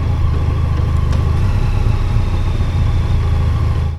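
A heavy motorcycle rides along a rough road, its engine a steady, loud low rumble close to the mic and unchanged throughout before it drops off briefly at the very end.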